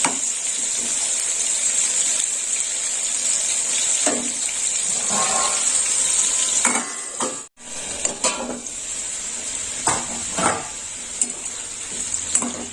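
Potatoes fry in hot oil in a pan, a steady close sizzle running throughout, with a few clinks and stirring knocks and a brief break partway through.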